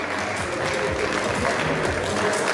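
A small audience at a women's team's official new-jersey presentation claps continuously, a dense, moderately loud patter of hands with occasional voices mixed in.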